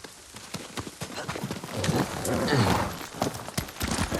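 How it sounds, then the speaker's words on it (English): Horse hooves clip-clop in a quick, steady rhythm during a ride in the video game Ghost of Tsushima, close and fairly loud with a brief swell of movement midway. "Kazumasa, I do enjoy our rides together"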